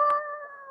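A person imitates a dog howl, one short sustained wavering howl that starts with a brief sharp attack and then holds steady and close.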